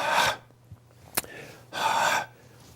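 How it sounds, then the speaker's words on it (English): Two sharp, audible breaths taken in during a karate kata, close and breathy, separated by a quiet pause with a small click or tap between them. "Breathe in."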